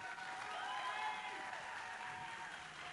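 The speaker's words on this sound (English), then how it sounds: "Let's give Case Western Reserve University a big round of applause." A crowd applauds a university robotics team at a NASA robotic mining competition, sustained, dense clapping at steady volume throughout, with a faint murmur of voices underneath.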